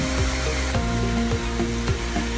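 Spicy turkey slider patties frying on a hot pan, a steady close sizzle with faint scrapes and clicks of a utensil, no voices.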